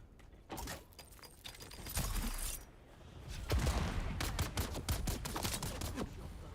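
Gunfire in the video game Dune Awakening, a scattered series of close, sharp shots that quicken into rapid bursts toward the end over a rumbling game background.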